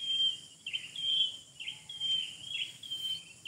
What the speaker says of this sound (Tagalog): Mga huni ng ibon ang ating background ngayon